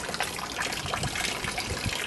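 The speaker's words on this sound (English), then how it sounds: "So I'll just pour a little bit of that off there." Water pours and splashes steadily off a wet mixture of sand and water beside a river in a small liquefaction experiment, a continuous close trickling gush.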